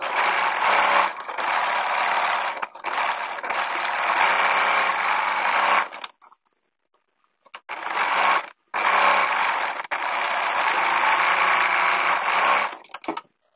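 A sewing machine stitches a fabric mask in two long, steady runs of fast, even whirring, each about six seconds, separated by a short silent pause, close and clear with no talking.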